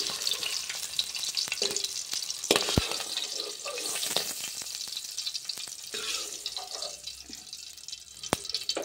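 Eggs frying in hot oil for a dhaba-style egg curry, a constant crackling sizzle with occasional sharp spatters and utensil taps throughout, close and fairly loud, no talking.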